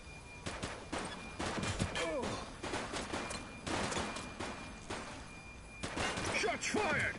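Rapid bursts of gunfire in The Precinct police game, a dense clatter of shots spread across the clip with overlapping game voices and chatter.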